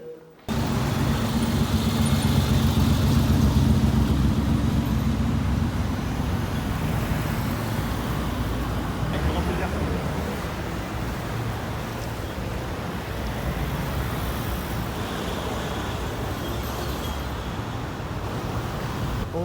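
A Maserati MC12 with a V12 engine sits in a parking garage in Monaco, its engine producing a continuous, steady rumble that echoes through the enclosed space with no speech over it.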